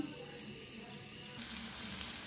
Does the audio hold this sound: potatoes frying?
yes